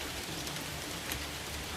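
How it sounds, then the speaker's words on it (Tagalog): Steady rain falls outside a house, a soft even hiss of drops with no voices. "magpapalipas tayo kasi umuulan"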